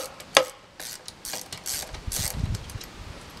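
Up close, a ratchet clicks in short, uneven bursts while loosening the drain screw on a Volvo SX stern drive lower unit. One sharp metallic knock opens the sequence, and the clicking stays fairly quiet.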